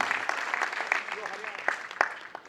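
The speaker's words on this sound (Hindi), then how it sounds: "हरियाणा से एक बेहतरीन तालियां।" Audience applause at a live Safedeal Spark gathering in Haryana, a dense patter of clapping with sharper bursts, running under a voice addressing the crowd.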